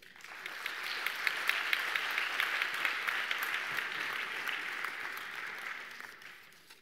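An audience at a French award ceremony claps steadily for a bronze medal winner. The applause swells quickly, holds as an even patter for several seconds, then fades, heard from a moderate distance.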